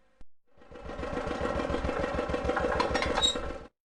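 A cartoon tractor engine in a preschool educational game starts up and runs steadily for a few seconds, its low, rhythmic chugging fairly loud and up close, with a bright chime near the end and no talk.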